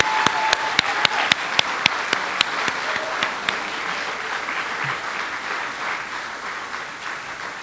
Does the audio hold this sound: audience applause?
yes